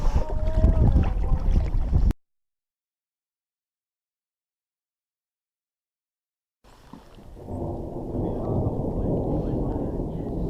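Deep rolling thunder over the Grand Canyon heard from a raft on the Colorado River, a loud broad rumble that cuts out abruptly, then a long low roll building back in after a gap of silence.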